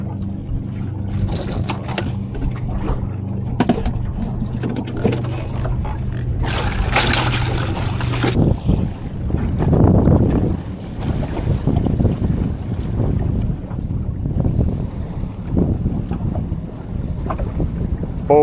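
Motorboats on Barkley Lake, a low engine drone with wake slapping and wind buffeting the microphone, building in the second half, with no voices.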